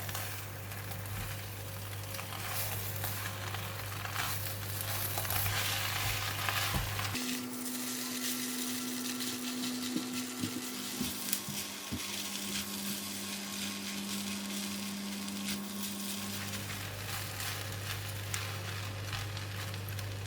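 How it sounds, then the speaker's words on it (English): Rice vermicelli and vegetables stirred in a hot pan for spicy fried bee hoon, a steady sizzle with scraping stirs and clatter, joined midway by a droning appliance hum. "so we just give it a stir"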